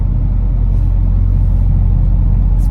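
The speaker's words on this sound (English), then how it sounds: "this truck doesn't have none of that clutch hold, so this thing wants to roll immediately" A truck engine rumbles steadily with a deep, continuous low drone while the truck is driving, loud and close throughout with no talking.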